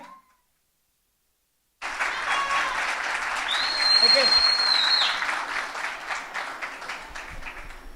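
After a brief silence, an audience at a children's singing semi-final bursts into loud, sustained applause welcoming the 12-year-old singer Chantal Lafon, swelling then easing, with faint voices and a few whoops within the crowd.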